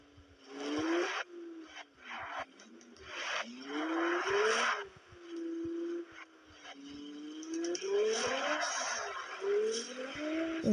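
An engine in the mobile game Car Parking revs up and down in repeated rising and falling sweeps, close and moderately loud, with bursts of tire squeal and scraping noise between gear changes, mostly without talking.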